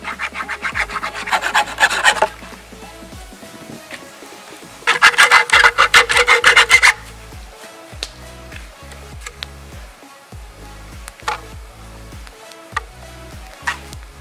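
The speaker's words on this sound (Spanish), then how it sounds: "Esta caña la vamos a cortar a la mitad" A long cane stake for roasting ribs over a wood fire is sawn in half, heard as two loud bursts of quick, rasping back-and-forth strokes separated by quieter handling and light knocks.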